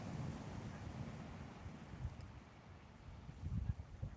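Wind and ocean waves rolling in at a beach with dunes, a low steady rush of surf and gusting wind buffeting the microphone, swelling slightly louder near the end.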